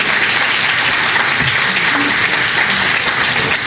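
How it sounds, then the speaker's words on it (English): An audience at a symphony concert in Côte Saint-Luc applauds, a steady, dense wash of clapping that stays loud and even throughout. "you can applause for that."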